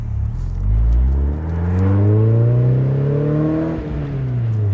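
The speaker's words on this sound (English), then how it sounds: "That's a nice fruity exhaust, I like that." A 1996 British Racing Green Mazda MX5 revs hard through a loud, fruity aftermarket-sounding exhaust, the engine note climbing steadily toward about 5,000 RPM, close and strong, then easing off briefly before rising again.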